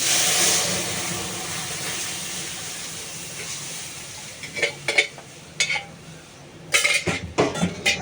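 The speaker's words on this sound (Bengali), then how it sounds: "এদিকে না আমি কড়াই বসিয়ে দিয়েছি" A wok and pots clatter on a gas stove in a home kitchen, a steady frying hiss giving way to a series of sharp metallic knocks and scrapes, loud and close.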